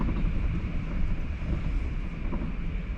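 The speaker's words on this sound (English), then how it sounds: "Do you like it when it's windy? I normally say I don't mind it, but right now I'm bored with it." Wind on a windy day in Desert Hot Springs, a steady loud rumbling buffet against the microphone with gusty surges throughout.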